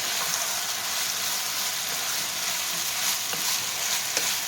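Chicken fried rice with soy sauce sizzles loudly in a hot pan on high heat while being stirred, a dense continuous frying hiss with a few soft scraping taps.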